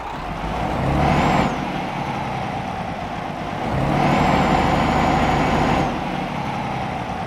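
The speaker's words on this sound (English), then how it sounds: "let's get our DAF truck started up and get on the road." A DAF XG Plus truck in Euro Truck Simulator 2 fires up, its engine settling into a steady diesel rumble, with two bursts of rising whine and a hiss, the second held for a couple of seconds before dropping back.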